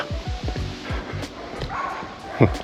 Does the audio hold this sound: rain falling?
no